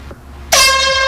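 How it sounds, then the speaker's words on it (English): After a brief quiet moment, a loud air horn blast erupts suddenly and holds steady, blaring and close. "Put down the fucking air horn."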